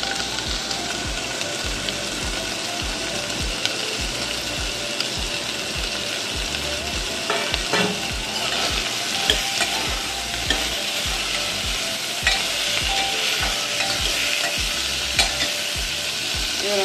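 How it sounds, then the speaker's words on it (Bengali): Raw chickpeas fry in hot oil with spices for a Bengali fig curry, a steady close sizzle running throughout with a spoon scraping and stirring the pan in quick repeated strokes. "আমি এবার ছোলাটা দিচ্ছি। ছোলাটা কিন্তু কাঁচা।"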